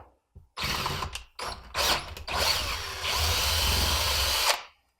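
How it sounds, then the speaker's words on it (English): A power drill whirs in several short bursts drilling out a VM24 carburetor cap on a TTR 125, then runs in one long steady grind before stopping; close and loud, with no talking. "we're going to step it up and drill this VM24 cap out"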